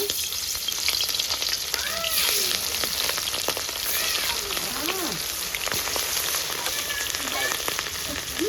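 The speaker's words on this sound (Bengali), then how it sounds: "মাছের পিসগুলারে ভাজা নেব।" Rohu fish pieces frying in mustard oil in a kadai, giving a loud, steady close-up sizzle and crackle with some squeaky background tones mixed in, and no voices.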